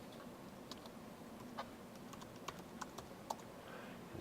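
A computer keyboard is typed on in scattered, quiet clicks and short bursts over a steady low room hum.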